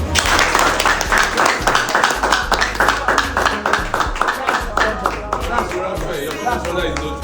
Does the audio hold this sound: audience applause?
yes